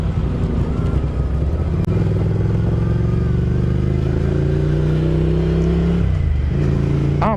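A Ducati Scrambler motorcycle rumbles steadily while being ridden, its engine note loud and close, with a brief dip like a gear change near the end before it pulls again.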